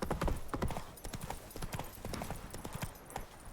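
Hooves of Roach, a horse in the Witcher 3 video game, clip-clop in a steady, brisk rhythm, close and fairly loud, with faint game ambience underneath.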